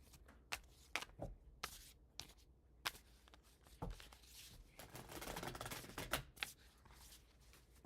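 Tarot cards shuffled by hand at close range, a sequence of crisp riffling and slapping bursts with sharp taps scattered between, forming a busy, uneven rhythm.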